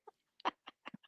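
A chicken-like bird squawks and clucks in a quick series of short, separate calls, about six bursts in a second, close by and fairly quiet against silence.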